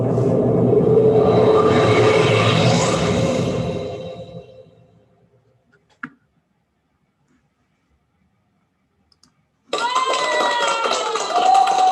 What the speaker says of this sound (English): I love that half-hearted applause